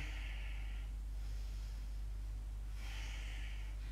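Slow, audible breaths are drawn and released during a morning yoga pose, two airy inhale and exhale swells over a low steady hum, quiet and close with no talking.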